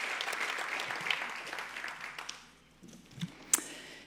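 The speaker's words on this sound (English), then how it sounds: "Another round of applause. That sounded good." Audience applause at an arts awards ceremony, dense clapping that starts fairly strong and thins out over a few seconds, ending in a few scattered claps.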